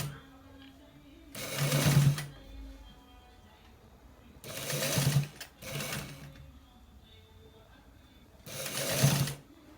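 A sewing machine stitching a pair neck design on a garment runs in four separate close bursts, each a rapid buzzing whir that stops abruptly, with quiet pauses between.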